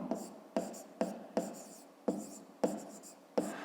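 Pen strokes on paper, repeated scratchy bursts of handwriting at a steady pace roughly every half second, close and fairly quiet, during a fifth-grade maths exercise.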